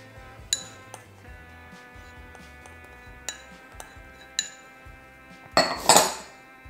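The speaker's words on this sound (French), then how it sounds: "je vais mélanger avec une petite touillette" A small stirrer mixes chorizo into savoury cake batter, giving faint scattered clinks against the bowl with soft scraping underneath and a louder clattering rattle near the end.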